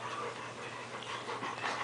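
A five-week-old yellow puppy pants close by in quick, soft, breathy rhythmic puffs that continue steadily and fairly quietly without a break.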